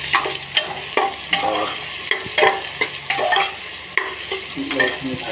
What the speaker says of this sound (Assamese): বিলাহীখিনি ভাজিব লাগিব